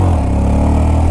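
A 2019 Honda Monkey motorcycle engine runs loud and close while ridden through a roundabout, a steady buzzing drone without voices.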